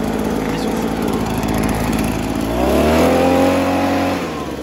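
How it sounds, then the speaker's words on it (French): A big motor, apparently a snow-clearing machine, idles with a steady rumble, then revs up loudly into a higher, rising whine and settles into a strong, close running drone. "on a sorti le gros moteur, le bolide. Donc là, on va pas avoir déconné les gars. On va le démarrer"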